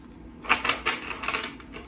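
A deck of tarot cards being shuffled, giving a quick series of crisp riffling clicks and flutters lasting under two seconds, fairly close and quiet with no talking.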